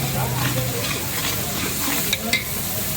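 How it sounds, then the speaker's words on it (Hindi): Lentils roast in ghee in a pan while a spoon keeps stirring them, a steady close sizzle with soft scraping and a couple of sharp clinks near the end. "चम्मच हिलाते रहेंगे ताकि ये नीचे लग ना जाए।"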